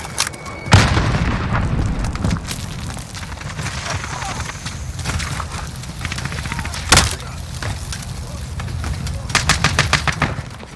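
Call of Duty Modern Warfare multiplayer combat: a sharp grenade blast early on, another heavy boom later, and rapid bursts of gunfire throughout, loud and close, with game voice callouts mixed in.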